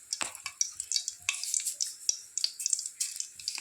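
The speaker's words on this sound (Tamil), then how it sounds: "கடுகு பொரிட்டுங்க." Mustard seeds splutter in hot oil with a dried red chilli for a Tamil radish kootu, a rapid scatter of sharp crackles and pops over a soft sizzle, close and fairly quiet, with no voices.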